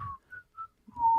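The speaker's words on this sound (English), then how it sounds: "I literally just whistled the tune." A person whistles a short melodic tune, a few clear separate notes with brief gaps, ending on a longer held note.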